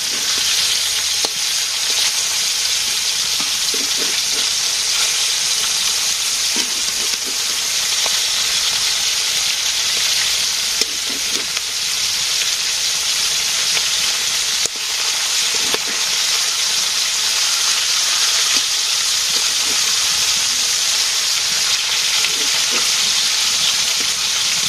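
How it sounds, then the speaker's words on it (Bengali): Fish frying in a pan gives off a steady, close sizzle with light crackling that holds evenly throughout, with no voices. "মাছ ভাজি হইতেছে।"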